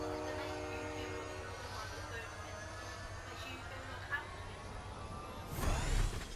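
A train in the Fortnite video game rumbles steadily with tonal mechanical hum, ending in a loud close clanking crash, under the sound of players talking.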